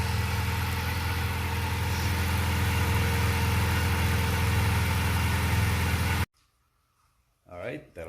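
A supercharged 2006 Mazda Miata NC Sport Edition engine idles nearby after a spark plug change, a steady low rumble that cuts off abruptly, followed by brief silence and a short voice.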